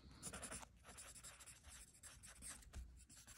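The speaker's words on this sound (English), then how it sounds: "Okay, I'm gonna write" Writing by hand, close scratchy strokes of a pen on paper in quick uneven bursts, faint and alone.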